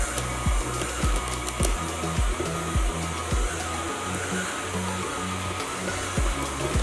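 Stand mixer kneading bread dough on low speed, a continuous motor whir with a rhythmic low thumping as the dough turns and slaps around the bowl, close and steady with no talking.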